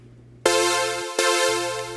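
Two sustained full chords played on an electronic keyboard, the second struck about 0.7 seconds after the first, each ringing out loud and clear with no talking.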